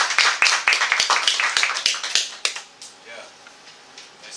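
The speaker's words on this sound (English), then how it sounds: "let's leave a round of applause and thank you for coming." Scattered applause from a small audience after a talk on collected yeast, a dozen or so distinct claps close by, fading out after two and a half seconds into quiet room tone.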